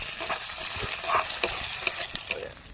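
Ginger-garlic paste fries with onions in a hot pan, a dense continuous sizzle under a few scraping stirs and light clinks, close and fairly loud.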